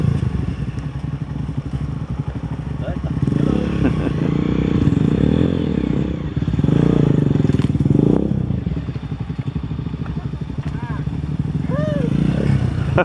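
Several motorbikes crossing a bridge in Vietnam: a steady engine hum swells into louder, clattering passes with rattling and revving, then settles, with voices talking over it.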